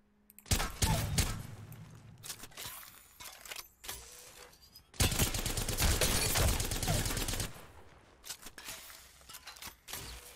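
Bursts of automatic weapon fire from the Apex Legends video game, including an R-301 rifle, loud dense volleys with short pauses, a long sustained burst in the middle, then scattered shots.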